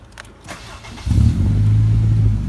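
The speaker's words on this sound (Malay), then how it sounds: "Start kereta." A Honda Civic FD 2.0 is started with the push-start button: a short whirring crank, then the engine catches at about one second and settles into a steady, close idle rumble.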